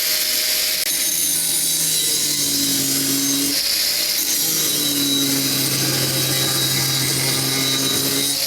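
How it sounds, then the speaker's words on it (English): Angle grinder fitted with a cutting disc works steadily on a sculpture in a workshop, a continuous loud whine with a rising and falling tone as the load shifts, running throughout without talk. "That's the angle grinder."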